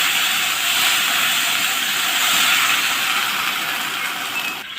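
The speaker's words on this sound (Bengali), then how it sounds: "এবার দেখো এগুলো ভালো করে ভাজা হয়ে গেছে আমি জল দিয়ে দিলাম" Water hits frying garlic in hot oil with a loud, steady broadband sizzle that fills the pot and fades only slightly toward the end, with no voices over it.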